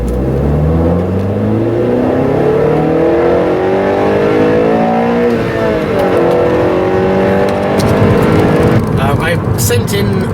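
A 2016 Honda Civic engine with its intake resonator removed drones and rises through the gears, a loud continuous note climbing in pitch several times, with a brief burst of extra noise near the end.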